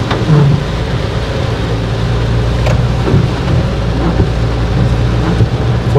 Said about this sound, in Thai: ฝนปล่อยปลายแล้วครับเพื่อนนะครับข้างหน้า